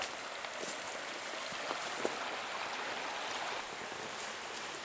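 A river flows past a primitive campsite fire pit in the Catskills, a steady, soft rushing wash of water with no voices.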